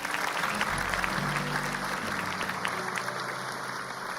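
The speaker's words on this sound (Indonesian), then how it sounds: "Tepuk tangan buat mereka" Sustained applause from a studio audience on an Indonesian talk show, a steady wash of clapping with a faint low hum beneath it, continuing evenly for about four seconds.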